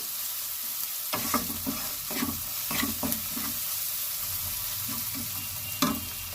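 Onion and garlic fry in hot oil for prawn biryani, a continuous sizzle broken by repeated scraping strokes of a spoon stirring the pan, close and fairly loud with no talking.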